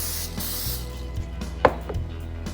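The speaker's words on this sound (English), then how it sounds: "spray" Cooking spray hisses in a short burst onto layers of phyllo pastry, followed by faint rubbing and a few light taps in an otherwise quiet kitchen with no talking.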